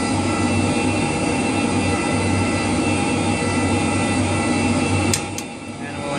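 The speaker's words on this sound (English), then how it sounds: "start engine number two" A simulated CRJ700 jet engine roar from a flight simulator hums continuously, then spools down slightly near the end with a couple of brief clicks.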